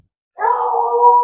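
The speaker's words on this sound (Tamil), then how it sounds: "நாய் இருக்கான்." A dog gives a single drawn-out howl or whine near a rural house compound, starting abruptly after a short silence and holding steady, fairly loud and close, with no talk over it.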